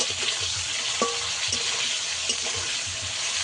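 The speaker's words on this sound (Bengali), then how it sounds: "লবণ দিয়ে দেব, পরিমাণ মতো লবণ দিয়ে ভালো করে ভেজে নেব।" Okra and potato pieces frying in hot oil with salt for a vegetarian curry, a steady close sizzle with occasional scraping from a spatula, no voices.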